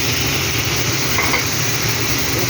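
Water sizzles hard in a very hot pan with turmeric and chilli powder, a steady, loud crackling hiss with no talk.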